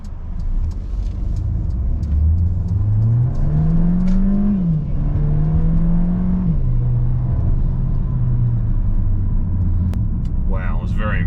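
A Mercedes B180 accelerates hard from inside the cabin, engine pitch climbing and dropping through gear changes in a loud, close rumble, with a person speaking briefly near the end.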